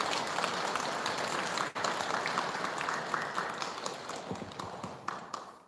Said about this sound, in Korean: 우리 모든 여러분들을 위해서 다시 한번 찬탄의 공도 박수를 부탁드리겠습니다